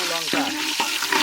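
Bay leaf, dried chilli and cumin sizzle hard in hot oil for a dal tempering, a loud close crackle with two or three sharp scraping stirs across the pan.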